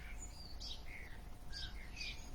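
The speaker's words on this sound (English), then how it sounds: "Birds tweeting" Several birds chirp and tweet outdoors in short bright bursts, spaced across a steady low background hum of wind and distant ambience, with no voices.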